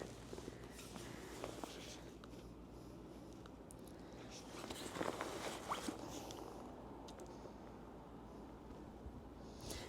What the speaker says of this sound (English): And look, I'm like zipping it